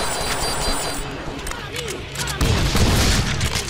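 Grenades explode one after another in the Deadpool video game, a dense run of booms and gunfire-like bursts that grows louder toward the end amid busy game noise.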